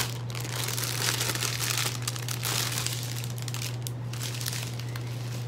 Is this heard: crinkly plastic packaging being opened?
yes